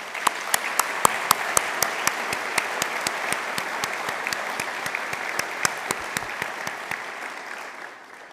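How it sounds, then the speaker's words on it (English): Graduation ceremony audience at a University of Galway conferring gives a long round of applause, dense hall clapping punctuated by a few sharp, close individual claps, fading out near the end. "We might give them all a round of applause."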